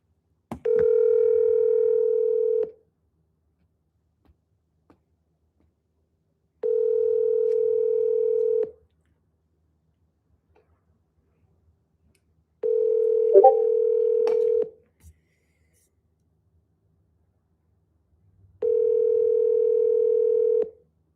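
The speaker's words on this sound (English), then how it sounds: "Now, if Jesimar would pick up the phone, I'm going to call him one more time." Ringback tone on an outgoing phone call to a real-estate buyer: four long, steady buzzing rings about six seconds apart, with silence between them and a faint click near the third ring.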